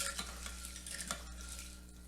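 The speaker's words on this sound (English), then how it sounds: "And give that a stir." A spoon stirs a mix of water and apple cider vinegar in a bowl, giving soft repeated swishes and light scrapes at a moderate, uneven pace over a low hum.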